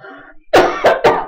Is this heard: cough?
yes